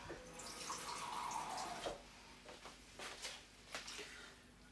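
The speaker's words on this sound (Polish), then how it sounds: "Chyba tam muszę podlać troszkę wody pod to mięsko." A little water is poured into a pot under meat cooking on a stove. A steady splashing pour runs for about two seconds, then scattered drips and small clinks follow, moderately close.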